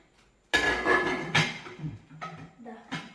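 Newly unboxed kitchen serving dishes being lifted and set down, giving a loud sudden knock followed by a few scattered clinks and clatters close by.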